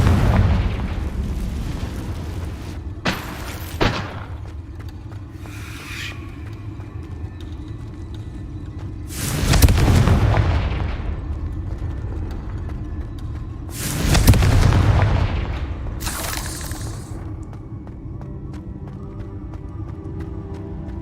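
Confringo fire-spell blasts in the video game Hogwarts Legacy: a few sharp pops early on, then two big booming explosions that swell and roll away. Each blast rings out loud over a low, steady ambient hum.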